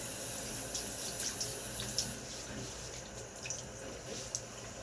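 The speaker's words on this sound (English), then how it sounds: "now I'm going to throw a little bit of water on my face" A tap runs into a sink during wet shaving prep as water is splashed onto the face, a faint steady trickle with soft drips and splashes.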